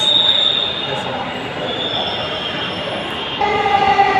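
A Dhaka metro rail train pulls into a station with its wheels squealing: a steady, loud metallic screech and rolling rumble that holds for about four seconds.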